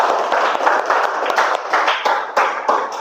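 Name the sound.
applause for a student group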